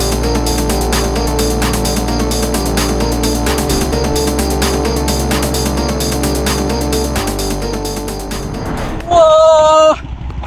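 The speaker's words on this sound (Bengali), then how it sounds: "ওই দেখুন ওটা কি? ট্রলার যাচ্ছে, ট্রলার।" A trawler boat passes on the Jamuna River near the Sirajganj hard point embankment. Its engine gives a steady, low, chugging drone throughout, and a loud, brief, horn-like tone sounds near the end.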